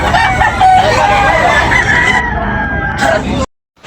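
A loud, close red, yellow-legged rooster crows in one long, drawn-out call that breaks off abruptly, followed by a moment of silence.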